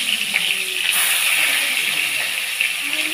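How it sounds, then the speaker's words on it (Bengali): Fish frying one piece at a time in hot oil, for a Bengali doi katla dish, gives a loud, continuous hissing sizzle with small crackling bursts throughout. "তেলটা আমার গরম হয়ে গেছে, এবার আমি মাছগুলোকে ভেজে নেব এক এক করে।"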